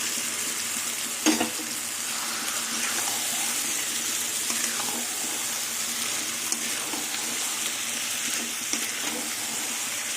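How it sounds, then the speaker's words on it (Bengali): Chicken pieces go into a spice paste already fried down in oil until the oil separates, giving a steady broad sizzle with a sharp clatter near the start and occasional soft stirring knocks, no voices. "মশলা কষানো হয়ে গেছে দেখুন তেল ছেড়ে দিয়েছে এবার মাংস দিয়ে দেবো"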